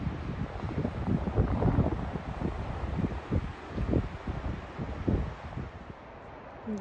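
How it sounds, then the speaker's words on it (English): Strong wind gusts on a mountain hiking trail near Idledale, Colorado, making a loud, uneven rumble and buffeting noise with no talk. "It's very windy."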